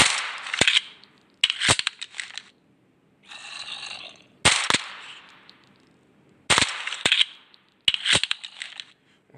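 Guns from a Minecraft weapons mod fire in sharp, crackling bursts, with five loud shots or short volleys spaced a second or two apart and a softer mechanical rustle between them.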